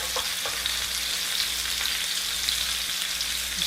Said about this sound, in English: We're getting them browned